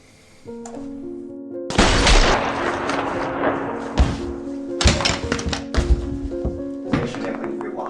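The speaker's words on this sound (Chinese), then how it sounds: "这多么悦耳的枪声啊" Gunfire from a Chinese action TV drama about a special forces soldier pursuing drug traffickers: a loud burst of sharp shots, then scattered cracks over sustained musical tones.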